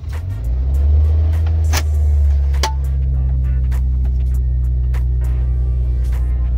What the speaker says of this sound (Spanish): Ya cuando está la luz verde encendida, es porque vamos a darle partida a la máquina.